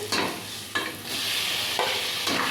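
Tomatoes fry in hot oil for a raw jackfruit biryani, with a spoon stirring the pan in a few distinct scraping sweeps over a continuous close sizzle.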